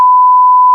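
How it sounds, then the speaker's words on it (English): A single steady, loud censor beep at one pure tone, lasting under a second with no other sound. "I'm gonna have to beep that out."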